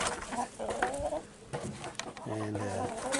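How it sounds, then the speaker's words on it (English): Backyard chickens cluck and squawk nearby in a few short bursts, with a voice speaking over part of it. "Crazy chickens."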